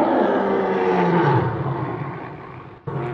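Deep, sustained roaring from big cats, loud and continuous with layered growls, fading slightly near the end after a brief dip.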